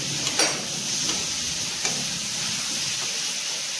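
Spice paste frying down in a pan gives a steady, close hiss and sizzle with a few sharp crackles near the start, and no voices.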